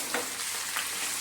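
Chicken sizzling in a pan of fried onions, a steady close broadband hiss with a few brief louder spits and stirring bursts, and no voices.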